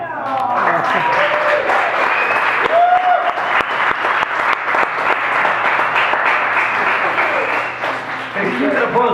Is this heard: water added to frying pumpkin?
no